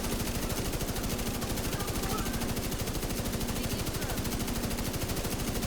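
Sustained rapid gunfire from The Division 2 video game, a dense unbroken rattle of automatic shots at steady rhythm, loud and continuous throughout.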